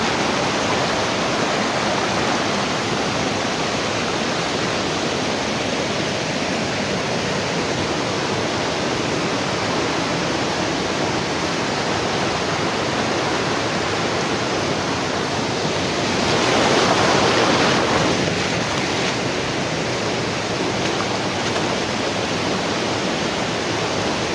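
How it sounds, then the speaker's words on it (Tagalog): Loud, continuous rush of water near a set of stairs, a dense unbroken roar that swells briefly partway through, with no other sound breaking through. "So ingay ng tubig."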